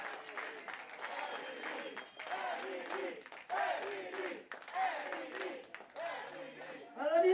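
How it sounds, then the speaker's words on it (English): Crowd ovation at a pro wrestling show in a Rome venue for wrestler Emily Ramirez, sustained applause and cheering from an indoor audience with voices shouting over it, swelling in bursts. "And listen to the ovation for Emily Ramirez"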